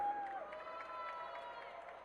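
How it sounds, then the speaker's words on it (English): Audience applause and cheering from a crowd at a gaming convention stage as a cosplay guest is welcomed, a steady wash of clapping with a voice over it. "Keep that applause rolling"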